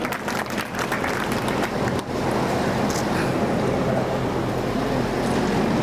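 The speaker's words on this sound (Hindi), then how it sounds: "जोरदार तालियां इनके सम्मान में।" Sustained, loud applause from an audience at a community award ceremony honouring talented members, with dense, steady clapping filling the whole stretch and barely varying in level.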